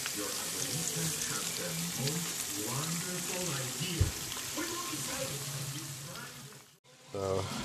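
Onions fry in butter and olive oil in a pan, a soft, continuous sizzle with a voice talking over it.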